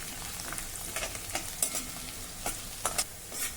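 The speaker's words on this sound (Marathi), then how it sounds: "अगदी हलक्या तांबूस रंगावर आता हे परतायचं आहे" Garlic sautés in hot oil in a pan, a continuous close sizzle broken by a few short clinking stirs of a spoon, moderately loud with no voices.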